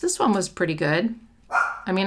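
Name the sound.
dog barking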